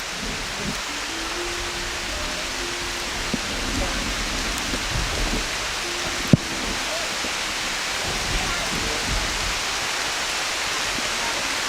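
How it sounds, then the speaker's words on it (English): Rain pours steadily onto the rainforest canopy in Borneo, a dense even hiss with scattered drips and taps and one sharp knock in the middle; faint voices sit under the downpour. "it's raining in the rainforest of Borneo and we're in the canopy"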